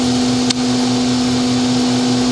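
A FANUC Robodrill machining center with a 10,000 RPM spindle running, a loud, steady high-pitched tonal whine over a broad mechanical hum, with one brief click near the start and no talk.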